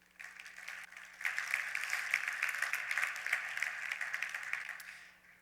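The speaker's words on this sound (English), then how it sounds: "Give yourselves another round of applause." Audience at a healthcare quality conference plenary breaks into applause, a dense, distant-sounding wash of many hands clapping that swells after a second, holds steady, then tapers off.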